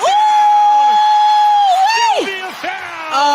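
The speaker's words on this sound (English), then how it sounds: "Oh, the crowd erupted with the hammer" A basketball crowd roars after Sylvia Fowles slams home a dunk, loud sustained cheering with piercing whoops and shrill yells rising and falling over about three seconds.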